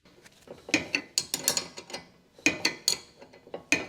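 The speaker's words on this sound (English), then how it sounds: "Tighten lock nut securing the sway bar and link with a 22mm wrench." A 22mm wrench tightens the lock nut on a sway bar link of a 2015 Ford Explorer, making quick bursts of clicking ratchet strokes in two close, crisp runs with short pauses.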